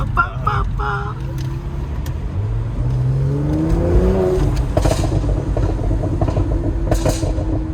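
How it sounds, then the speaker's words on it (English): A car revved in first gear above 3000 RPM, engine rising in pitch then settling into a steady rumble with sharp exhaust pops and crackles near the end, loud and close, with no talk over it. "You just hit the accelerator, and as long as RPMs are higher than 3000, it will pop."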